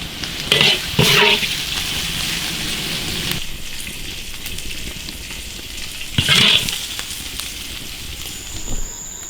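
Food sizzles and crackles in a hot wok, with a few louder bursts of frying as it is tossed, a steady hiss running underneath.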